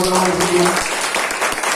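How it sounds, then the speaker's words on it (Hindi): Audience at a product presentation event in Bhandara breaking into brief applause, a short, loud burst of clapping with a voice briefly audible at the start. "इसके लिए एक बार जोरदार ताली बजा दीजिए।"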